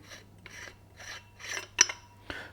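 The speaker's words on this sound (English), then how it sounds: "You do have your barrel bushing at the back here, so you can unscrew that if you wanted to." A barrel bushing is unscrewed from the back of a Wildcat Predator rifle moderator, giving a series of soft metallic rasping turns, about five short scrapes at a steady pace, close and quiet.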